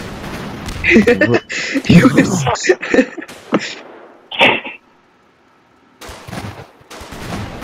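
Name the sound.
explosions and gunfire in a video game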